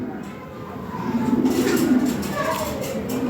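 A healthy pair of fancy pigeons coos in a cage, low throaty coos rising in the middle and trailing off, with someone talking over the birds.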